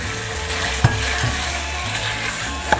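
Boneless chicken sautéing with crushed garlic in a pan over medium-high flame, a steady close sizzle with a couple of sharp utensil clinks against the pan.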